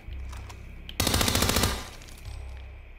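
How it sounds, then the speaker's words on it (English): An unsilenced gun in Hitman 2 lets off one loud, rapid automatic burst of under a second, alone against quiet background ambience. "Now, let me get an unsilenced gun like this."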